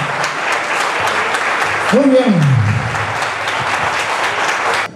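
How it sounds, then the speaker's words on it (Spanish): Warm audience applause at a Colombian music celebration, a full, steady clapping that fills the space while someone briefly speaks over it partway through. "Vamos a darle un fuerte aplauso a nuestra música colombiana."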